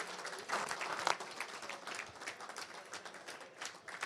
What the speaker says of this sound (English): how about a round of applause for our sponsors